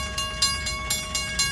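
A train passing at Franklin Park during railfanning, heard as a steady rumble with repeated rhythmic clacking bursts of wheels over rail joints, fairly close and continuous throughout.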